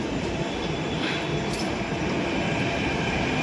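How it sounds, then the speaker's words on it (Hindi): A Mumbai metro train pulls out of a station with a steady loud rumble and hiss of wheels on rail, one continuous roar without talk. "तो मेट्रो निकल गई।"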